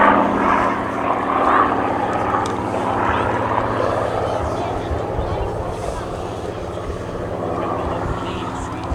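A Supermarine Spitfire that once flew with the Battle of Britain Memorial Flight drones overhead at an air festival, a steady loud propeller engine roar throughout with a voice talking over it.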